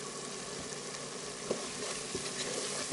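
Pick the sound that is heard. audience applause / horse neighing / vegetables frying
vegetables frying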